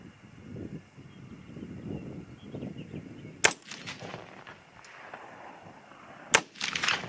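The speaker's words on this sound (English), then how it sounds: "the last 2 shots will be the Speer Gold Dot with Power Pro Varmint." Two sharp, loud 6.5 Grendel rifle shots firing Speer Gold Dot ammunition outdoors, spaced about three seconds apart, each with a brief rolling echo over steady wind noise.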